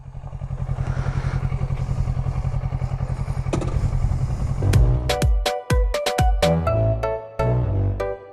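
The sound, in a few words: Kawasaki motorcycle engine riding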